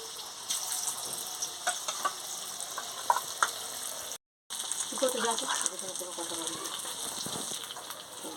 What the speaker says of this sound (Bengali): এবার আমি এই মাংসগুলো ভেজে ফিরে আসছি।